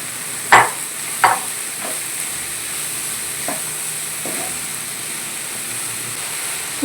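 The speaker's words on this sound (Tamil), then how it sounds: "ஸோ நல்லா ஃப்ரை பண்ணுங்கள்." Onions fry in oil with chenna kunni dried shrimp, giving a steady close sizzle broken by a few sharp scraping stirs near the start and softer stirs later.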